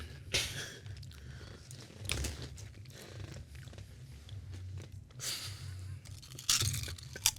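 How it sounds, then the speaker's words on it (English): Chewing sounds come right up against the microphone: wet, crunchy bites arrive in uneven bursts, with louder crunches at the start and end. "It's chewing in my ear."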